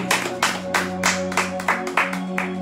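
A church congregation claps in a steady, brisk rhythm, the sharp claps close and loud over sustained musical tones.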